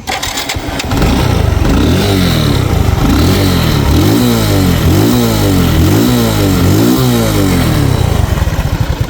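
A second-hand scooter's engine runs close by, loud and continuous, its pitch climbing and falling in about six repeated revs over a steady idle.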